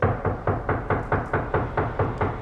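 Someone raps on a door in a rapid, steady series of about ten even knocks, close and loud, with no voices.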